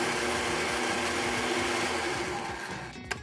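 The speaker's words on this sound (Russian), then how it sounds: "Вафли в блендер?" Kitchen blender grinding wafers into crumbs, a steady loud whirring drone throughout that tapers slightly at the end with a faint click.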